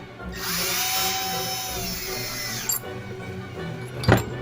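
A power driver set to low torque whirs steadily on bearings and hardware during the rebuild of an ARRMA Outcast 8S 1/5-scale RC car, ending in a couple of sharp clicks and a brief clatter up close.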